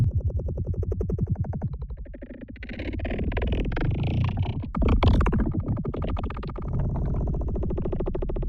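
A designed sound effect of Bob Ross washing his brush, built from pink noise and crackle noise shaped with effects, gives a rhythmic, pulsing swish that swells into a loud burst midway and then settles into a softer, steady flutter.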